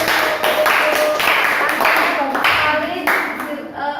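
A classroom audience claps together for a presenter during a school lesson, producing a close, fast run of sharp, even hand claps that lasts throughout.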